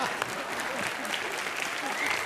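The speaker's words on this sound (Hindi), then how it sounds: "लोग जी तालियां बजा रहे इस बात पे भी" A studio audience on the TV comedy show Comedy Nights With Kapil claps in a dense, even burst of applause for a couple of seconds.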